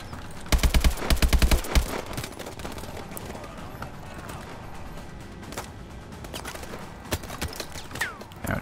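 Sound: gunfire in Call of Duty Advanced Warfare video game

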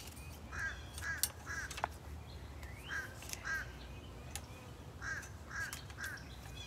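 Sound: birds calling outdoors

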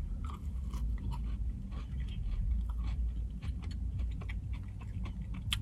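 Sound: biting and chewing a maple donut

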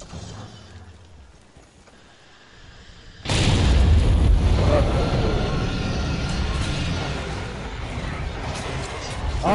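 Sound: bomb explosions in video game Monster Hunter World Iceborne

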